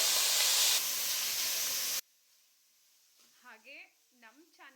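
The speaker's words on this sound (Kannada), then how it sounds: "ಈರುಳ್ಳಿ ಚೆನ್ನಾಗಿ ಫ್ರೈ ಆಗಬೇಕು, ಓಕೆನಾ?" Onions fry in hot oil for a chicken liver and heart gravy, giving a loud, steady sizzle for about two seconds before it cuts off abruptly into near quiet, after which someone begins speaking.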